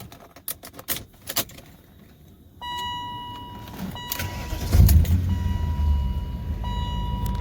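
A 2003 BMW M5 gives several sharp clicks and then an electronic tone before its engine cranks, catches and settles into a close, steady idle rumble.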